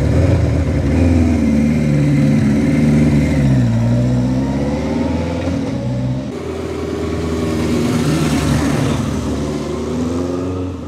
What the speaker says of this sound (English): 1975 Kawasaki. This is the Z1 900. Listen to that exhaust note.